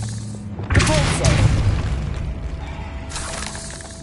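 A Depulso spell is cast in Hogwarts Legacy, giving a sudden heavy boom with a shattering crash, then a rumbling decay that fades over a few seconds.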